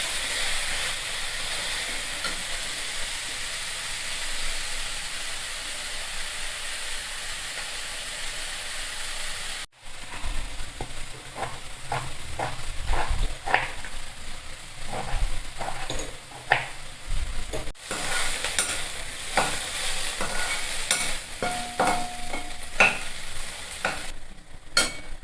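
Onions fry in a pan for a kakora vegetable dish, a steady loud sizzle close by that is broken by frequent scraping stirs of a spoon against the pan, with no talking.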